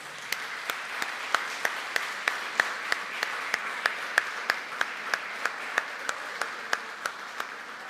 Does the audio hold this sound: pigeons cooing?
no